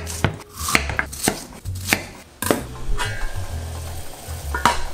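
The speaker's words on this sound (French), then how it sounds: "Je vais alors couper chaque moitié en 4." A knife cutting pear halves into quarters on a board, with about eight sharp, close chops at an uneven pace over a faint background hiss, and no talking.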